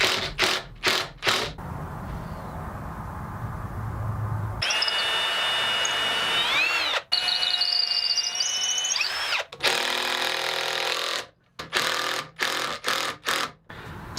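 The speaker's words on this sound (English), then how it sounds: "drive in some nice long screws to secure it." A power drill whirs in repeated bursts, its motor pitch rising and falling as long screws are driven into wood for a work table, with short pauses between runs.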